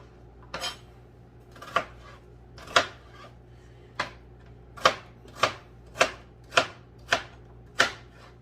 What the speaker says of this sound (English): when I cook onions, I really just like kind of thickly chop it